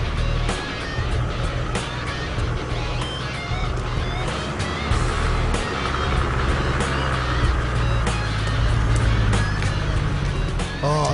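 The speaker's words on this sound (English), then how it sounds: "He's a mean man on the wheel and this truck's got some power." A V8 truck powers up a hilly back-country track, its engine roaring loud and steady throughout, with a thick low rumble and constant broadband noise from the climb.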